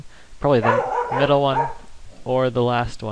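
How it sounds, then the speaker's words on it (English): A pet dog barks and yips in several sharp bursts nearby, overlapping a person talking. "That's my dog barking."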